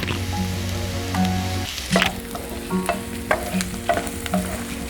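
Broken dry red chillies sauté in a pan as part of a butter chicken preparation, with a steady sizzle of frying and repeated clacks of stirring scraping through it, close and fairly loud.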